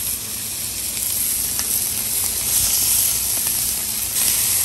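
Thick-cut bacon sizzles in a pan with a steady, even hiss that holds throughout, close and fairly loud, with no talking.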